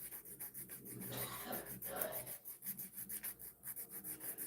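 A nail file is drawn across gel-polished talon nails, beveling toward the free edge, a close, rhythmic scratchy rasping in quick repeated strokes.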